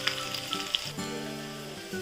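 Chili and garlic fry in hot oil for a tadka, giving a steady, close sizzle with a few sharp pops and crackles throughout and no voices.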